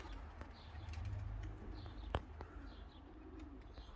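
A racing pigeon arriving at its loft during a race, with soft repeated cooing from nearby birds over a low background rumble and a single sharp knock partway through.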